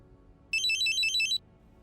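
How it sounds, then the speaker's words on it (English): A phone ringtone trills in a bright, rapid repeating pattern for under a second against a quiet room-tone background, then stops abruptly. "Elise's phone rang."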